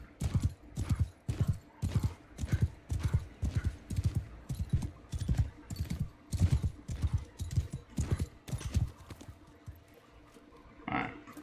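Horse hooves in the video game Bannerlord 2, a steady rhythmic clip-clop of galloping strides, fairly close and clear, fading out near the end.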